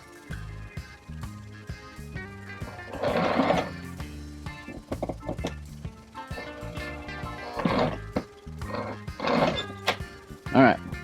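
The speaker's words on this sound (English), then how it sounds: "I'm going to sew just a stitch or two," A Sailrite sewing machine stitching a boat hatch cover runs in several short bursts of rapid mechanical thumping between pauses, with someone talking throughout.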